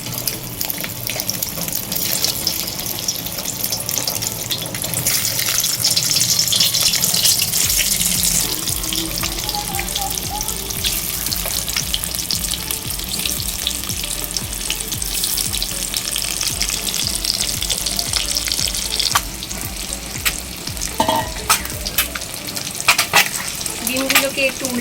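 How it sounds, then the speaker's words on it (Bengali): Eggs tossed with a little turmeric frying in well-heated oil give a steady, loud crackling sizzle that runs throughout, with occasional clinks of a utensil against the pan. "এবার ডিমগুলোকে ভেজে নেব।"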